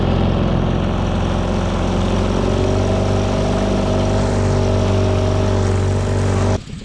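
Outboard motor on a duck boat runs steadily in a shallow marsh, a loud continuous engine hum that holds for several seconds and then cuts off abruptly near the end.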